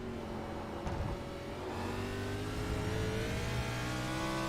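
Race car in the Premier Series accelerating up a hill onto a long straightaway on a road circuit, its engine note climbing steadily in pitch and growing louder, a sustained rising drone without speech.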